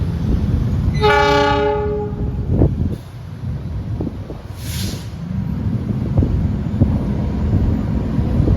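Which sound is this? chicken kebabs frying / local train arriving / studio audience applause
local train arriving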